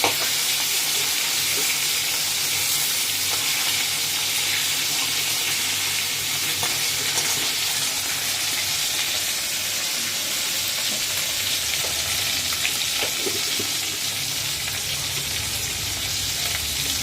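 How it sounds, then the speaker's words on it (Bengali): Live fish lightly frying in hot oil, a loud continuous sizzle and hiss that stays even throughout, with faint occasional stirring ticks underneath. "এগুলো বেশি কড়া ভাজা করতে হবে না হালকা ভাজা করলেই হবে"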